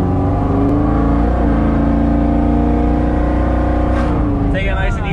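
A Pontiac Trans Am engine runs loud and close, its deep, steady rumble swelling slightly as if revved, with voices talking over it near the end.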